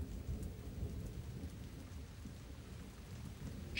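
Steady, dense rainfall with low rumbling underneath, a continuous stormy wash of wind and rain with no let-up, fairly distant and moderate in level.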